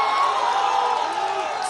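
A live audience at a political debate claps and cheers to welcome party leaders onto the stage, a dense, steady roar of applause and shouting throughout with voices mixed in.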